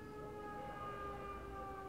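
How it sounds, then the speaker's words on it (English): Emergency sirens pass outside, a faint, steady, distant wail that carries on without a break and never comes near. "You hear the sirens?"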